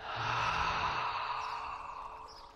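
A single long, deep exhale during a tai chi breathing exercise, a soft breathy rush that starts full and gradually fades out over a couple of seconds.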